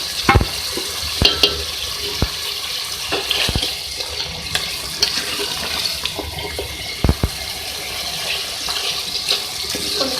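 Browned fried onions stirred into mutton and potatoes cooking in a pot, a loud, wet bubbling sizzle with repeated sharp spoon knocks and scrapes against the pot.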